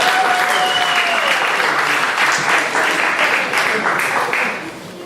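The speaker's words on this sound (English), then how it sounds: "Give her a big round of applause." An audience at a magic show gives a loud, full round of applause, dense clapping that holds strong before tapering off at the end, with a brief voice at the start.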